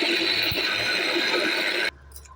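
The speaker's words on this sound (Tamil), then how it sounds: "ஃப்ரெண்ட்ஸ் இதை பாருங்கள் சாப்பரில் போட்டு பொடியாக கட் ஆகிடுது" A manual vegetable chopper finely chopping vegetables in a home kitchen gives a steady whirring, rattling mechanical clatter, loud and continuous, stopping abruptly near the end.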